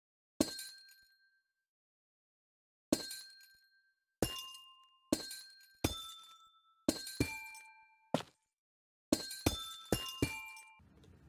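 Amethyst blocks break one after another in the Minecraft video game, each a bright glassy chime that rings and fades, with gaps between the earlier hits and a quicker cluster toward the end, heard without any talk.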